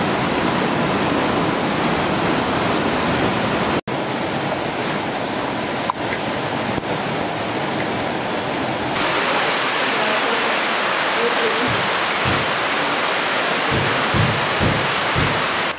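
Floodwater rushes loudly through Goslar during the 2017 flood, a dense, continuous roar like a torrent that never lets up, with a few brief thumps and knocks near the end.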